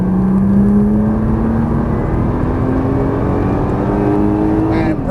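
A Nissan GT-R accelerates hard on a race track, its engine note rising steadily in pitch for several seconds before briefly dropping, loud and close, with an instructor talking over it.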